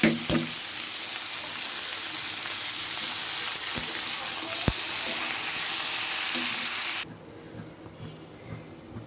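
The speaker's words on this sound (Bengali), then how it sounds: "এখানে এগুলো সহকারে সরিষার তেলের মধ্যে তেলে নেব।" Vegetables with garlic, salt and turmeric sizzle in hot mustard oil, a loud, dense hiss with stirring scrapes and a sharp clink, close by, then the sizzle drops off abruptly to quiet near the end.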